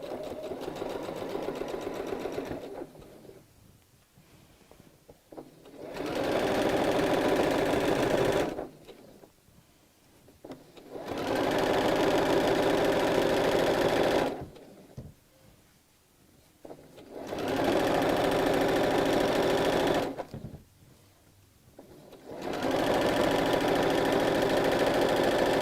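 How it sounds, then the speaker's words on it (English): Sewing machine stitching a straight skirt, running in four steady bursts of several seconds each, separated by short quiet pauses, close and loud with no talking. "And then sew."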